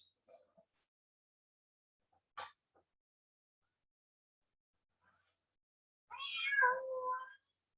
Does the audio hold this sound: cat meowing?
yes